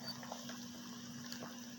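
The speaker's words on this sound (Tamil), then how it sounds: "மீன் குழம்பு நல்லா கொதிக்குது" A pot of Tamil fish curry (kuzhambu) bubbles softly at a low simmer, faint gurgles over a steady low hum, close by.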